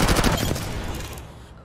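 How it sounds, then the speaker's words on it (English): Rapid burst of gunfire in the video game Apex Legends, a Wingman pistol firing several close, punchy shots in the first half second before the sound trails off. "Firing."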